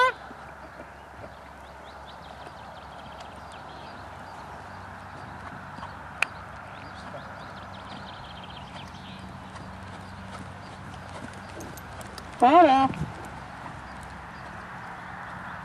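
A five-year-old horse trotting during a riding lesson gives a steady, faint rhythm of hoofbeats against a low background hum, with one louder burst near the end and a brief word from a person.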